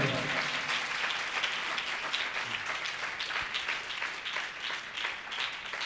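A church congregation applauds steadily throughout, dense clapping sustained at an even level from start to finish, with faint voices underneath.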